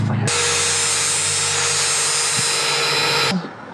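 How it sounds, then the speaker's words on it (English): Handheld power tool grinding the flange off a bolt while fitting brackets for a Lifan 125cc engine swap into a Honda CT90, one steady high-pitched whine running close and loud for about three seconds before cutting off. "Let me just shave the flange off this bolt."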